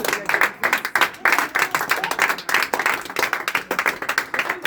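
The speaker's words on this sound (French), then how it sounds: "On acclame le Seigneur" Church congregation clapping and acclaiming the Lord, dense rhythmic hand claps mixed with cheering voices, steady and fairly loud throughout.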